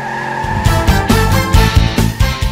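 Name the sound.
race car engine revving sound effect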